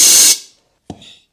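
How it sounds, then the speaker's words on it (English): A compressed air gun blasts a loud, close hiss into a 6L90E transmission clutch pack to pop a molded piston free, cutting off sharply, then a brief second puff follows with a soft knock. "Let's see if we can just pop this off with compressed air."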